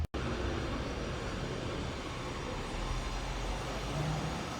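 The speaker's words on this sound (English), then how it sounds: "here I am on my balcony with the roadworks on my street" Roadworks on a residential street, heard from a balcony: a loud, steady broadband roar of machinery and traffic that runs continuously without pause.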